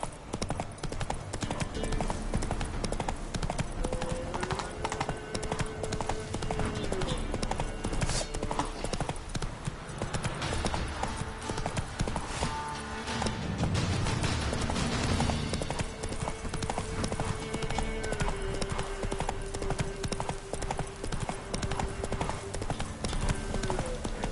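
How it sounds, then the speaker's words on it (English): Hooves of a horse galloping in The Witcher 3 video game clatter in a steady, fast clip-clop throughout, set within a dense, loud game soundscape with an occasional voice. "Whoa there, Roach."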